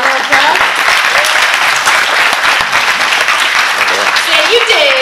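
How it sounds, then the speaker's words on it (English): A crowd at a school assembly for an EarlyAct First Knight award applauds a student, with steady sustained clapping throughout, cheers and voices mixed in. "Let's give him a round of applause"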